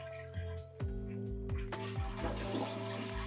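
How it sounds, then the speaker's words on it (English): A hotel bathroom toilet flushes with a brief rush and gurgle of water, fairly close and moderately loud, with no talk during the flush. "So you want a good working toilet. Let's give this a flush."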